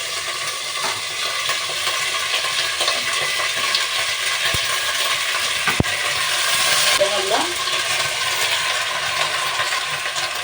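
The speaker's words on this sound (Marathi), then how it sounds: "हे थोडंसं असं तेलामध्ये जरासं परतून घेऊया." Chopped vegetables for pav bhaji sautéing in oil in a pan, a continuous sizzling hiss with occasional stirring scrapes and a brief clatter, close and fairly loud.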